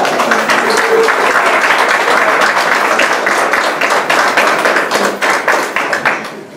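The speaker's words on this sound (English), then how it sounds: "Yes, let's have a round of applause." Loud, close applause from a crowd at an allied health and medical terminology graduation ceremony, dense clapping with distinct individual claps standing out, thinning into scattered claps toward the end.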